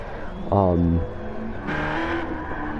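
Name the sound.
race cars (BMW, Subaru) driving at Spa, from a racing video game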